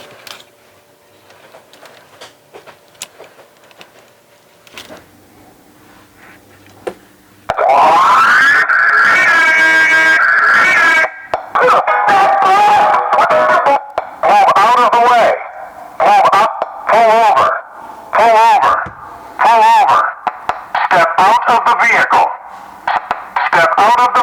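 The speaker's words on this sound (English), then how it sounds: "Let me power it up and show you all 30 of those really cool tones that it has." A Feniex Titan vehicle siren cycles through a series of loud electronic tones: wails, yelps, warbles and rapid chirps in bursts, with brief pauses and a PA-style voice between some tones, after a quiet start.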